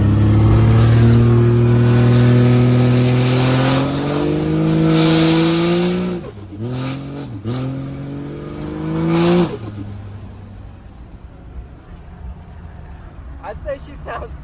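A car engine revving hard and pulling away, its pitch climbing through gears before dropping on a couple of quick lifts, then fading to a quieter idle with a brief high whine; a voice talks over it.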